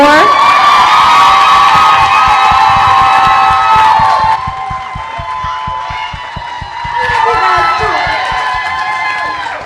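A book-event audience gives a loud, sustained burst of cheering, whoops and clapping that fills the room. It dips briefly partway through, then swells again.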